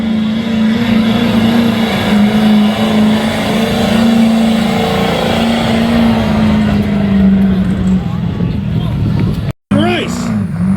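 At a truck and tractor pull, a Chevrolet pulling truck roars loud and close with a sustained droning engine note and a raspy edge, a voice over it, then it cuts off abruptly near the end.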